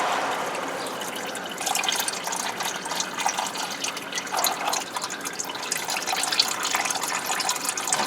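Transmission fluid pours on a 2003 Subaru Forester 2.5L, a steady liquid trickle and splash running on for several seconds at moderate level, with no talking.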